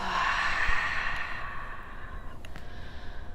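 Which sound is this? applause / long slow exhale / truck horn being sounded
long slow exhale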